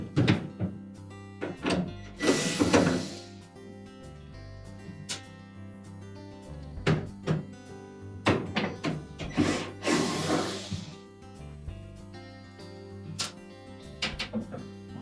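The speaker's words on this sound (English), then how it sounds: "our next step will be to remove the two retaining screws at the bottom of that" Close clicks, clunks and bursts of whirring from a power screwdriver as retaining screws come out of a Frigidaire refrigerator's solenoid housing, arriving in two separate rounds with handling knocks between them.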